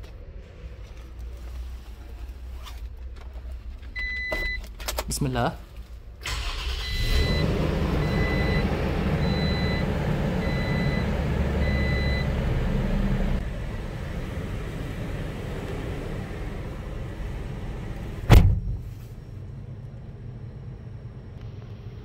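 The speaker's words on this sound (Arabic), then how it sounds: "نسمع الآن صوت تشغيل الشاص 2024" A 2024 Toyota Land Cruiser pickup's engine cranks on the key and turns over, then settles into a steady diesel idle rumble; a few faint beeps sound beforehand and a brief clunk comes near the end.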